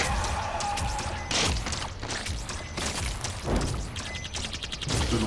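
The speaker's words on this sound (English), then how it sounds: "Like explosions everywhere." Explosions rip through a Ghostbusters video game scene, a dense, loud barrage of crashing booms, thuds and smashes that keeps going with barely a pause.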